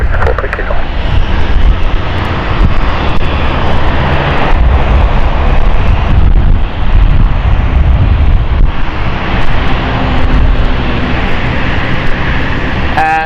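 Aircraft taking off from runway 27 at London City Airport, a loud, sustained engine roar with heavy wind rumble that stays steady throughout.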